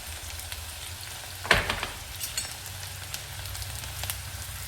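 Finely chopped onions hitting hot oil in a pan over low heat for a spicy Nagpuri Saoji chicken, giving a soft, steady sizzle with one brief louder burst as they go in.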